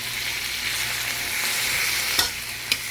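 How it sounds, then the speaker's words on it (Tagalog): Onion and tomato sauté in a hot pan with a steady bright sizzle, broken by a couple of sharp scraping stirs near the end. "ginigisa ko na po ang sibuyas"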